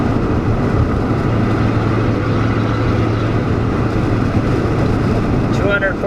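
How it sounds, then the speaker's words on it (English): A pickup truck with a straight pipe exhaust rumbles steadily at idle with a deep, throaty drone, a continuous low growl close by, with a brief faint tonal sound near the end. "you just listen to the nice straight pipe exhaust"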